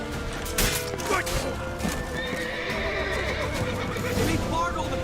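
A horse in the video game Witcher 3 neighs loudly with a shrill whinny, its hooves clip-clopping nearby amid game battle noise and shouting voices.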